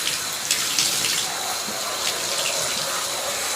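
Steady hiss of water spraying from a shower hose while a dog is bathed at home, continuous and fairly close with no talking.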